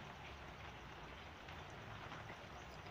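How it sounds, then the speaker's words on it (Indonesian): Steady rain pattering continuously, a soft even hiss with no breaks, fairly faint and alone. "di sini hujan"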